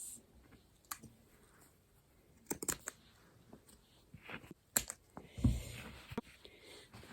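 Scissors snip through a drawstring cord on a freshly sewn rucksack bag, giving a few faint, scattered clicks and snips in a quiet room.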